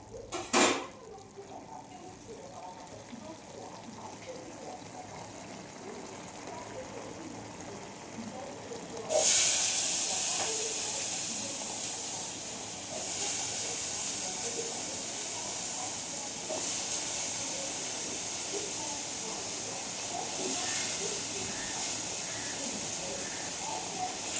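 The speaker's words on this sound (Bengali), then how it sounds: "তখন গ্যাসটা একটু জোরে দিই" A gas stove flame turned up high, producing a steady breathy hiss that jumps louder partway through and then holds constant, near and alone.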